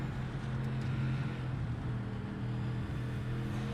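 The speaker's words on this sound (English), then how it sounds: "It sounds like it's max throttle in these cars." A race car at Watkins Glen holds a full-throttle engine drone, a steady low rumble with a constant hum layered over wind noise, loud and unbroken, with no talking.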